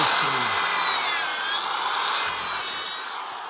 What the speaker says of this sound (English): you got another drill with actually smaller bit,